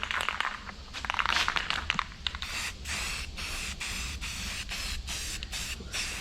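Self-etching primer sprays from an aerosol can in a run of short hissing bursts with brief pauses between them, close and fairly loud, with faint rustling beforehand and no talking.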